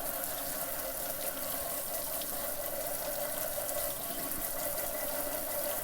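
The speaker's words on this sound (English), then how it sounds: "Just getting water shot at you from everywhere." Water sprays hard onto a waterproofed GoPro camera on a wet day in Ireland, a dense, steady hiss and splatter hitting from all sides without pause.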